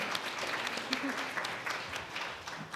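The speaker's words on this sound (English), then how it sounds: "we just wanted to pause and have them stand up so we could clap and appreciate them and their work" Audience applause breaks out as training fellows stand to be recognized at a data science workforce event: a steady, dense wash of clapping throughout, fairly close and full, with a little voice mixed in.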